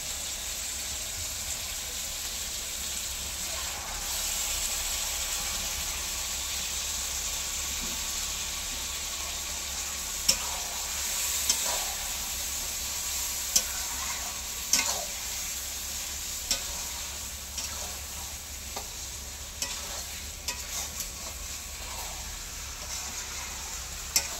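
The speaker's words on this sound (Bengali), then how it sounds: "ভালো করে কষিয়ে নিয়েছি, তারপরে দেখো আমি চিকেনটা দিয়ে দিচ্ছি।" Chicken frying and being stirred in a pan during village home cooking in India, with a steady loud sizzle throughout and scattered clinks and scrapes of stirring in the later half; no talking.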